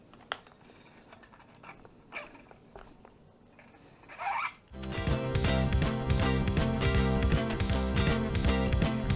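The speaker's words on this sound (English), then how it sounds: "now the strings can come out easily" Old guitar strings are pulled out during a restringing setup, giving a few brief, quiet metallic scrapes and rasps spaced seconds apart before a loud, dense tonal sound takes over.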